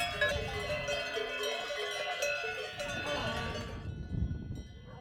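Cowbells clank steadily and close by as a herd of heifers climbs on an alpine transhumance in the Queyras, with occasional bleating-like calls. The ringing fades out near the end, leaving low rustling.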